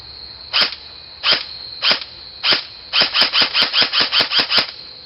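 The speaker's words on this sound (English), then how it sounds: "I'm going to shoot it on semi-auto first and then full auto" Airsoft gun fitted with a Madbull Gemtech tracer firing on semi-auto, four evenly spaced sharp snapping shots followed by a quick run of about ten rapid shots, close and crisp with no talking.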